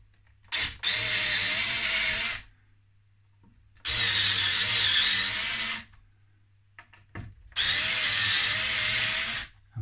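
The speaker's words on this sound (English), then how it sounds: "we're going to release three of the neck bolts" Power driver backing out neck bolts on a Fender Player Telecaster during a setup: three loud whirring bursts of about two seconds each, close up, separated by short pauses, with no talk.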